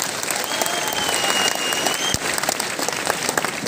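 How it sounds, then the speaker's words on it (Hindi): A large hall audience at a seminar claps loudly and continuously for a revered mentor, a dense, even roar of hands with a faint tone drifting above it. "मैं चाहूंगा एक जोरदार तालियां जरूर हो जाए गुरुदेव के लिए।"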